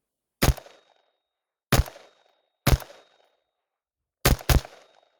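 Four sharp rifle shots from a Desert Tech MDRX ring out at an outdoor range, loud and close, the first three spaced about a second apart and the last two fired in a quick double.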